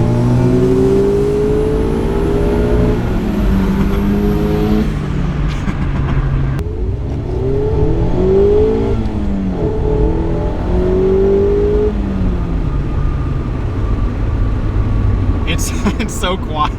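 A Mazda Miata ND1 engine hums steadily from inside the cabin while driving, with rising and falling pitch as it revs through gears, loud and continuous beneath a person talking.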